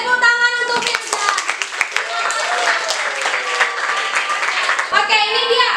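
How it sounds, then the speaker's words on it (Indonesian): A class of children claps for a classmate during a maths lesson, a brisk burst of hand claps with a young voice speaking over it and a teacher's voice at the start and end. "tepuk tangan untuk Firza"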